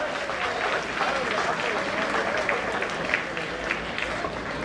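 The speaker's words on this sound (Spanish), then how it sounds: "Venga, fuerte el aplauso." Guests at a quinceañera party applaud, producing a continuous wash of clapping from a crowd at a lively, steady level throughout, with some voices mixed in.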